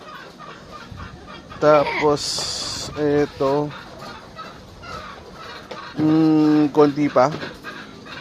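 Chickens clucking and squawking during early morning feeding, with several loud close bursts breaking over continuous speech and farm background noise.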